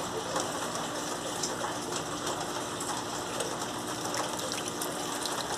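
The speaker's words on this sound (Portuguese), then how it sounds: "agora é a parte da água de entrada do amaciante" Water rushes steadily into the fabric softener compartment of an Electrolux Turbo Limpeza 8 kg washing machine, a continuous close gushing hiss with faint bird calls in the background.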